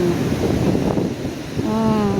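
Heavy ocean surf churns under strong, gusting wind on a typhoon-battered coast during a monsoon surge, a dense continuous roar with a brief tonal whine near the end.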